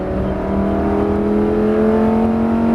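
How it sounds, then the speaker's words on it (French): Race car engine at full throttle on the Nogaro circuit, a loud, steady drone with a rising pitch held close throughout, with no talk over it. "Et redresse à droite et accélère et gaz à fond."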